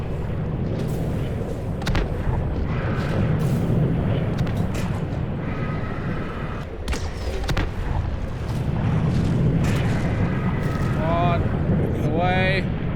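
Prawn suit torpedoes fire underwater in Subnautica Below Zero, deep booming launches and rumbling water surges beneath a man's loud overlapping speech, with bubbly watery swirls and creature noises near the end.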